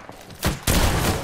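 A single gunshot in an online shooter, a sharp loud blast followed by a second heavy burst and a lingering rumble, with no talk.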